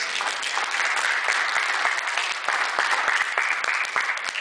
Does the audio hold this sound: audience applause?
yes